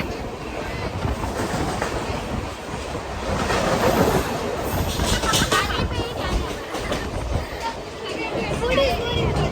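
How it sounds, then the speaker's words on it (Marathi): Constant rumbling roar from inside a moving Mumbai local train near Dadar, with rattling and rushing air; voices murmur faintly under the noise. "फायनली आम्ही ट्रेनमध्ये बसलो"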